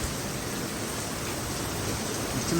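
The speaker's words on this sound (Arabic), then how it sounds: "أمطار الخير قوية جدا في هذه اللحظة من مدينة مراكش" Dense, even hiss of heavy rain pouring down during a thunderstorm in Marrakesh, a constant wash of noise with no breaks or voices.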